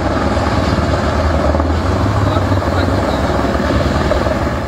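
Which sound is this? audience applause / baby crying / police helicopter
police helicopter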